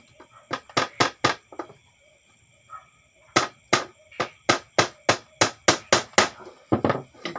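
A hammer driving nails into bamboo outdoors, with a short burst of strikes, a pause, then a long even series of sharp knocks, loud and close.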